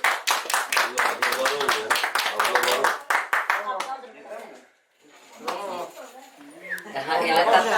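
Guests at a Turkmen wedding clap in quick, dense bursts up close, the applause mixed with chatter and voices, fading briefly before clapping and talk swell again toward the end.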